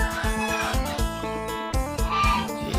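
Chickens clucking nearby at a coop in short repeated calls, a few overlapping birds with irregular rhythm, fairly loud against a quiet background.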